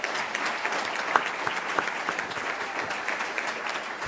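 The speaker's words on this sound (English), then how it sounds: "Let's give her a round of applause." An audience at a school board meeting claps to welcome a new assistant superintendent of student wellness, a steady crowd of hands with a few sharper individual claps, moderately loud, no speech on top.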